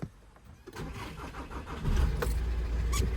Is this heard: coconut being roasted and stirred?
no